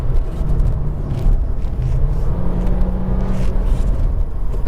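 An Audi Q2 from 2017 accelerating on a road, with a steady low engine rumble and road noise that hold evenly throughout and stretch out slowly in long gears.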